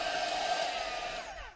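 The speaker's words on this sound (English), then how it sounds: "I'm just going to use my heat tool" An embossing heat tool blows a steady, close, high-pitched whir while drying a craft tag, running alone and tapering off at the end.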